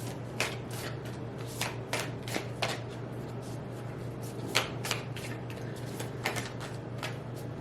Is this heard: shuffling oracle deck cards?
yes